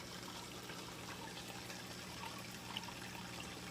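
A DIY auto top-off system trickles water into a low aquarium tank, a faint, steady splashing and gurgling that runs evenly throughout with no talking.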